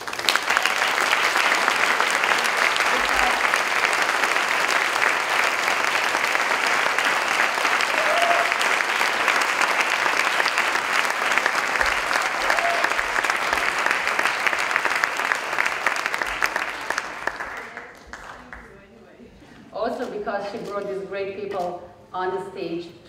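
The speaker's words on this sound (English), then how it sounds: "please give a big applause to Andrea" Sustained audience applause fills a panel session at a business forum, loud and dense for about seventeen seconds, then thins and fades out before a speaker begins talking.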